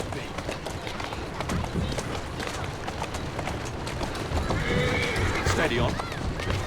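A horse whinnies amid galloping hoofbeats and busy background noise in the video game Assassin's Creed Syndicate, with a voice talking over the commotion.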